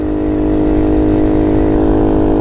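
A motorcycle engine fitted with a new DHM high-compression piston, still being broken in, idles steadily up close, a loud, even rumbling putter with no revving.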